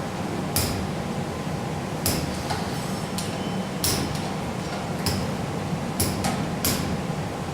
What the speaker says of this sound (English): And then assume I've reached my 25 drops of that hammer.